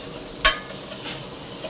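Masala spices fry in hot oil for a drumstick curry, with a soft continuous sizzle and one sharp clink from a stirring utensil partway through.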